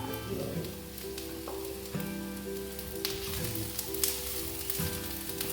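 Chopped capsicum tossed into onions already fried in a pan, a continuous soft sizzle with faint stirring scrapes and small clicks throughout, no talking.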